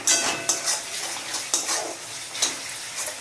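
Tomato masala fries in a pan for vegetarian tomato rice while a utensil stirs and scrapes it, a steady sizzle broken by several sharp scraping strokes, close and with no talk.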